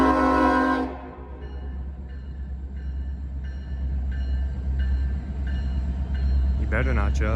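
A freight train horn blasts loud and close at first, then repeats in shorter distant honks over a constant low rail rumble, with a voice briefly at the end.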